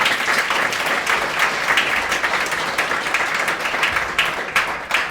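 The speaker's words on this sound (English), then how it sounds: "So let's give them another round of applause." An audience at a speaker showcase applauds steadily, dense clapping filling the room at a constant level throughout, with no voices on top.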